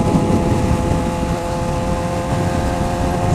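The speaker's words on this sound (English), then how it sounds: "And we're out riding on the motorcycle again." Suzuki GSXR 600 motorcycle being ridden on a road: a steady, loud engine drone with constant wind rush, no breaks or gear changes, heard from the rider's position.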